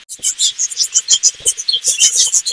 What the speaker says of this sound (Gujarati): તમે જો અહીંયા તમને વિદેશી પક્ષીઓનો આનંદ પણ તમે માણી શકો છો.